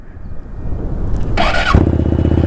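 A motorcycle engine cranks with a high whine, then catches and settles into a steady low rumble, loud and close.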